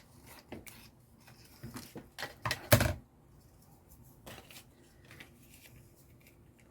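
Scissors snip through scrap paper for a junk journal at a craft table: a scatter of light cuts builds to a sharp louder cluster of snips, then quieter rustling and a few faint clicks.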